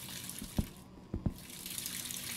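Running water from a tap in the horror video game On One's Own flows in a steady rush, broken by a few soft knocks and thumps close together midway.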